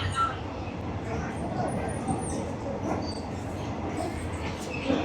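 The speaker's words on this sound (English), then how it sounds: "this is a great experience on the train" A passenger train on the Death Railway in Kanchanaburi, Thailand, rumbles steadily from inside the carriage, a continuous close broadband rattle and roar with no clear breaks.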